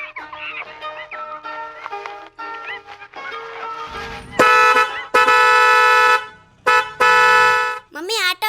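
An auto rickshaw pulls up and sounds its horn in loud, sustained honks in the second half, after voices talk over quieter background sound.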